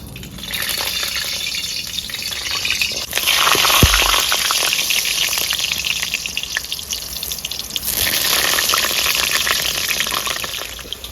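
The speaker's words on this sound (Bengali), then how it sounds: "সরষের তেল, তেলটা গরম হয়ে যায়, আলুটা তেল গরম হয়ে গেছে, আলু ভেজে নেবো" Potatoes frying in hot mustard oil, a loud, dense and continuous hissing sizzle close up that swells twice into stronger bursts of frying, with no voices.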